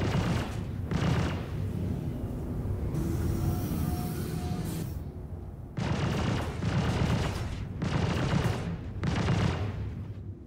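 A hostile turret in a video game fires on the player in loud sustained bursts of rapid gunfire, separated by short pauses, alone without speech.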